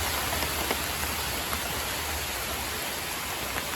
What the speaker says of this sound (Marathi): पाऊस पण खूप आला आहे